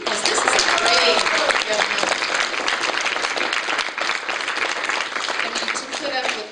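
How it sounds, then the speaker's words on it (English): Sustained audience applause at a winter solstice banquet, a thick, continuous wash of many hands clapping that stays loud throughout, with a few voices faintly underneath. "can we give Allison another little round of applause?"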